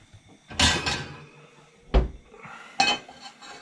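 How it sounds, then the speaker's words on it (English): A cooking pan is pulled out and handled in a home kitchen, giving three sharp metallic clanks and knocks spaced about a second apart, fairly close and loud, with no talking. "Bring out another pan"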